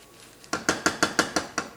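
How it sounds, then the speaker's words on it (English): A spoon knocks against a pot of semolina halva with orange zest as it is stirred, giving about seven sharp, evenly spaced metallic clinks, close and clear over a quiet background. "Give it a nice stir."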